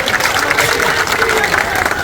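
Audience clapping at an outdoor political rally held by a BJP chief minister for a party candidate, a dense steady patter of many hands with crowd noise mixed in throughout.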